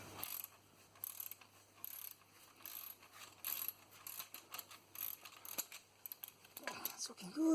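A wrench works loose a leaf spring nut on a Land Rover Series 2a 88, giving bursts of metallic ratcheting clicks in short uneven runs, close and moderately quiet.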